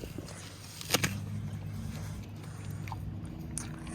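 A horse chewing a snack up close, with a sharp bite and crunch near the start followed by steady grinding mastication over a low outdoor background.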